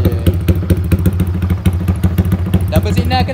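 A Yamaha Y15ZR motorcycle engine idles close by with a loud, steady, rhythmic thumping pulse and a slight clattery edge, holding an even beat throughout.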